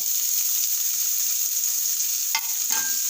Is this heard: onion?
yes